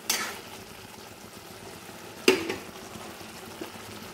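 Fish pieces sizzling in hot oil in a pan while being cooked for Assamese fish kalia, a steady soft frying hiss with a sharp clatter of a utensil midway, no voices.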